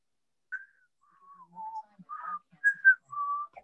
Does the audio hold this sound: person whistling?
yes